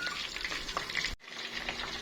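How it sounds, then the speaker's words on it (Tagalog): Close, steady sizzling and crackling of lumpia frying in hot oil, with a brief dip partway through before the frying noise resumes. "nagpiprito na ako ng lumpia"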